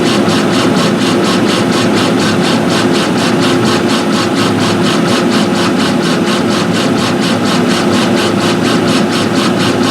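A laser engraver fires its beam across a piece of acrylic, giving a loud, steady mechanical hum with a fast pulsing rhythm throughout, close and continuous with no talk.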